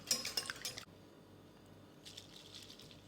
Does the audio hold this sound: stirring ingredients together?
yes